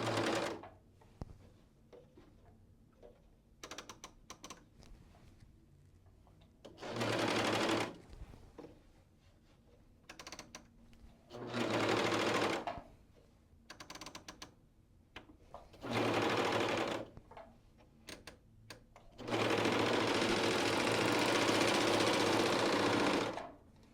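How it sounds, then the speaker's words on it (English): A bernette serger stitching folded fabric runs in five separate bursts at changing stitch lengths, each a steady mechanical whir, the last one longest, with quiet handling and clicks between runs. "Take a piece of fabric, fold it in half, and start stitching at the longest stitch length."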